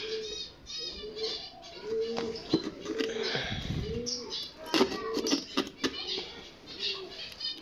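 Pigeons cooing in their nests during a nest check, repeated low soft coos close by with some wing flapping and chirps, while a person speaks quietly nearby.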